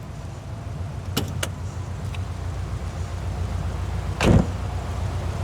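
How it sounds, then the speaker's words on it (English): Bonnet of a Subaru WRX Prodrive wagon being opened outdoors, with two sharp latch clicks close together followed a few seconds later by a dull thud, all over a steady background hum. "can you open the bonnet for us, please"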